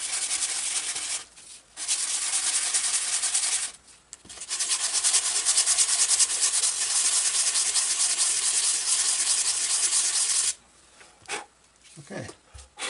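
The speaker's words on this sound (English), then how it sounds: "Sand this side too." Wooden parts of a GreatPlanes PT 20 model airplane are sanded by hand in long, close, raspy rubbing strokes, with brief pauses and faint handling noises between passes.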